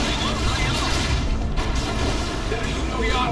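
A frag grenade goes off in the strategy game Dawn of War 2 as a muffled boom inside a constant wash of battle noise and rumbling effects, with a commentator talking over it.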